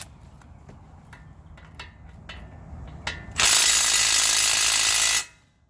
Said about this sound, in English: We'll go ahead and remove these bolts.